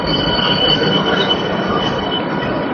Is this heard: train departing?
yes